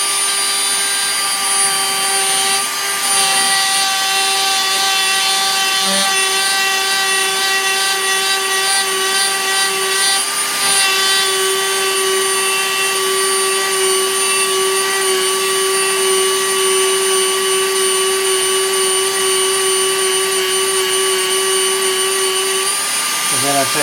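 Knife blank being ground out on a bench grinder, a steady loud whine with a strong sustained tone running nearly the whole time, holding fairly even with slight shifts as the blade is worked.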